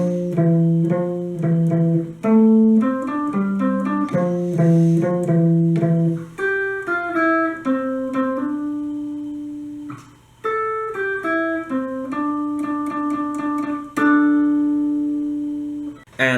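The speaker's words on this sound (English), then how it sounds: "Now let's get to what the second guitar is playing, and that should sound like this." The second guitar part of a song, played alone as clear plucked notes and arpeggiated phrases, close and steady over about sixteen seconds with brief pauses and no talking.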